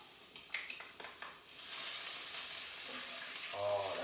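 Cloves of garlic and fresh minced ginger hit a hot pan for a shrimp and broccoli stir fry, a few light clatters giving way to a dense, steady sizzle that swells in the second half.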